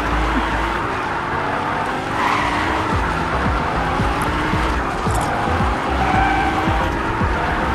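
Car driven in Fortnite, with steady engine hum and repeated tire skids and squeals over nearly eight seconds, loud and close throughout.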